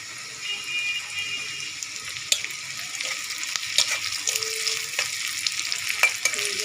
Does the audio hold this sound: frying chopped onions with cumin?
yes